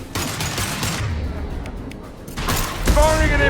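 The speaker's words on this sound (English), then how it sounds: "Firing an impact gun!" Heavy weapon fire from an impact gun in the video game Mass Effect 2: a loud, dense burst of blasts and booms over game noise, with a speaking voice briefly audible.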